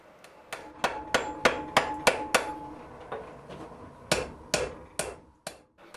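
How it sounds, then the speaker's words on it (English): Hammer blows on hot steel blacksmith tongs at an anvil, a steady series of sharp ringing strikes, a short pause, then a few more close, loud impacts with no talking. "And then I refine that shape over at the anvil."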